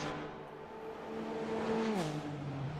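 GT3 race cars at Long Beach in a racing video game, a steady engine drone with harmonic tones that hold and then drop as the car downshifts or lifts, moderately loud and alone.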